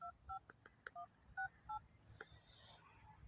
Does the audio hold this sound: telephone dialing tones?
yes